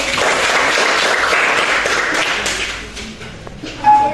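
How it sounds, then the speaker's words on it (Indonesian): Classroom applause from students in a university teaching session, a brisk burst of many hands clapping fairly close that thins out toward the end, with a small tap near the close. "Tepuk tangan lagi"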